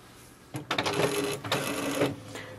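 An HP Envy 6200 series inkjet printer feeding and printing a page: a click, then two stretches of loud whirring mechanical motor noise with rattling, close by and without speech.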